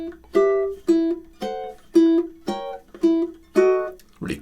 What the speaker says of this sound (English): So the first two measures of this section, measures 17 and 18, should sound like this